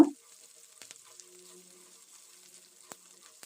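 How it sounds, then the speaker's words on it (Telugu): A soft, steady sizzle of cumin, peanuts, green chilies, ginger and curry leaves frying in ghee in a pan, faint and close, with a few light clicks and stirring taps. "కరివేపాకు వేసి ఇవన్నీ దోరగా వేయించుకోవాలన్నమాట"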